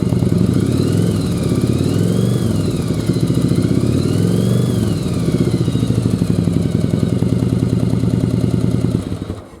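A second-generation Yamaha Virago motorcycle engine running close by, a loud rough idle that swells twice through revs before settling, then cutting off at the end.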